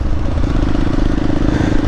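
A motorcycle engine runs steadily close by, a dense, rough drone with constant loudness throughout.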